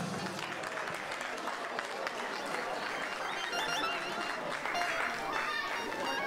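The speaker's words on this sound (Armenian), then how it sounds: "Բարձր ենք ծափահարում նվերի համար" A wedding audience applauds loudly for a gift, a continuous crowd clapping that stays steady throughout with voices mixed in.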